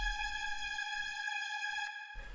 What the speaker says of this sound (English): The next thing we have here are these pads, which sound like this.